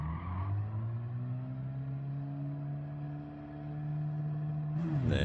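A race car in Gran Turismo 7 fitted with carbon brakes, its engine droning in a steady falling tone as it slows under hard braking, ending in a brief burst of tyre noise; no one speaks.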